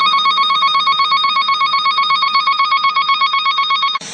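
Steady warbling electronic test tone from an automotive wire tracer receiver, held loud and continuous for about four seconds in a rapid pulsing rhythm, then cutting off abruptly with a short click.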